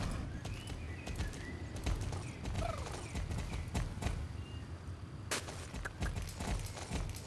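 Horse hooves clip-clop in a quick, steady rhythm in the Autumn Riders video game, fairly soft and close, with light ambient chirps in the background and no talk.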